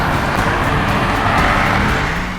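A 1000-horsepower Brabus Rocket 1000 drifting on an icy, snow-covered road in drift mode with stability control off, its engine a loud, continuous, dense roar.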